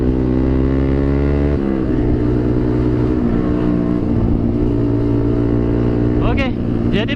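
Yamaha R15 motorcycle engine humming and revving steadily while riding, a loud continuous drone with a pitch drop partway and a brief rising whine near the end, with riders talking over it.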